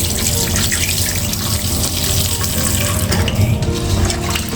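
Water pours from a tap into a salt brine for homemade dried fish, a close, continuous splashing flow that stays steady for several seconds with no talk.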